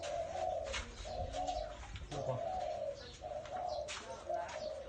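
A dove coos in repeated soft, low phrases with a steady rhythm, close by, alongside scattered chirps and faint background noise.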